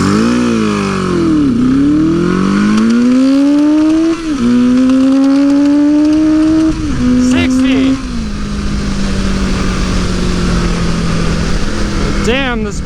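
A Suzuki GS850 Scrambler, running a little too rich, roars through an off-road race. The engine is loud and close, with pitch climbing through repeated revs and gear changes before settling into a steadier drone.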